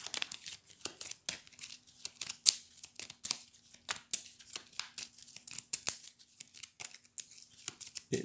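Hero Realms game cards being shuffled by hand, a busy stream of close papery riffles, slaps and crinkles in irregular bursts, fairly quiet with no talking.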